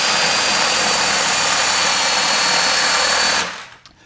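A power drill fitted with a spade bit bores through wood in one loud, continuous high whine, then cuts off abruptly and spins down after about three and a half seconds.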